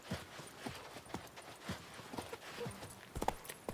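Roach the horse's hooves in The Witcher 3, a quiet rhythmic clip-clop of steady walking paces with a few sharper knocks and a brief clatter near the end.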